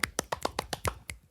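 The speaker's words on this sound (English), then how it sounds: "You should snap at a poetry reading like that." A short run of about seven crisp, close finger snaps in a quick, slightly uneven rhythm, alone and fairly quiet.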